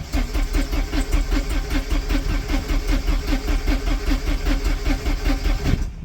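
A Porsche 944 Turbo engine cranks repeatedly without catching, a steady rhythmic churning of the starter that runs close and loud for about six seconds before cutting off, with no voices.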